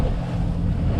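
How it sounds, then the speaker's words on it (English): Southeasterly wind buffeting a boat at sea while pulling crayfish pots, a brief, loud, steady rush of wind and water noise with no voices. "Wind's a little bit shit house again. It's blowing southeasterly."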